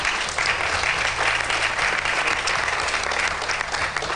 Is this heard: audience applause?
yes